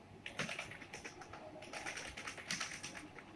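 Soft, quick keystrokes clatter on a computer keyboard in irregular bursts, close but faint, with no speech over them.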